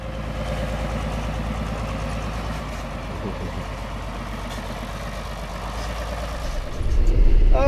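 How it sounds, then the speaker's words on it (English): A John Deere 4020 PowerShift tractor engine runs at a steady, loud idle with a deep low rumble throughout, growing a little louder near the end. "we got my uncle's tractor going"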